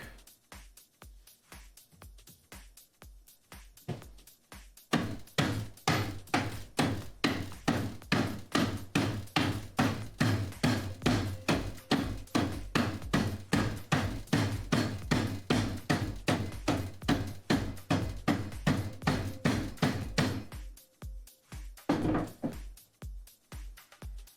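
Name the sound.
hammer hitting ice to crush it for drinks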